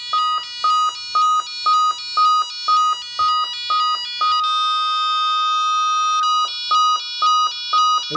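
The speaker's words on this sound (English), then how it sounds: "So you can hear this is making a Menvier setting tone" A Menvier alarm keypad sounds its setting tone, a high-pitched electronic beeping in a steady rapid series that breaks into one sustained tone midway, then resumes the repeating beeps, loud and close with no talk.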